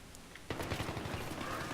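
Gunfire in Battlefield 3, a semi-automatic weapon firing a quick run of sharp shots that start abruptly and keep going under light game background noise.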